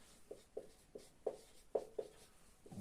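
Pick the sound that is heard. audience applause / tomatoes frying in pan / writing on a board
writing on a board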